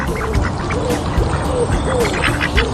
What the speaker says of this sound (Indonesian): seekor bebek